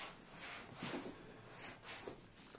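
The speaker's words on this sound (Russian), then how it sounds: "Берем салфетку и снимаем остатки грязи." A cloth wipes a car's leather seat after cleaning, giving soft, quiet rubbing strokes in a loose back-and-forth rhythm, close and alone without speech.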